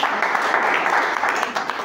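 A church congregation claps for Jesus during a sermon, giving brief, dense applause at close range for just under two seconds.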